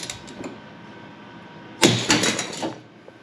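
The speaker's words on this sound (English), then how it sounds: "we just broke a stud" Engine stud snapping while a bolt is torqued during a blown engine teardown, heard as a sudden sharp crack followed by a few quick metallic rattles, close and fairly loud over faint shop background.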